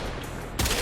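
Rubico Prime rifle in the video game Warframe, a dense, steady wash of gunfire noise that swells into a louder burst near the end, with no voices.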